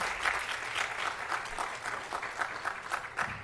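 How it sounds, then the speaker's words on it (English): An audience at a school Board of Education meeting applauds National Merit semifinalists, a steady round of clapping from a modest crowd, fairly faint and even throughout. "Could we first just give them a round of applause because it's an awesome achievement?"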